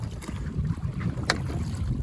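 A rowing boat moves across Rollesby Broad on a sunny, slightly windy day, with steady wind rumble and low water wash close to the microphone.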